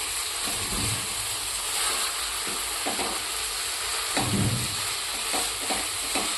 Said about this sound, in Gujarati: હવે આપણે જે આ રોટલીને કટિંગ કરેલું હતું એ નાખીશું મિક્સ કરી લઈશું